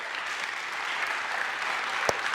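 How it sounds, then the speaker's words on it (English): An audience at a summer camp gathering applauds the camp leaders, a dense continuous burst of clapping heard close and steady for a couple of seconds. "Give them a round of applause"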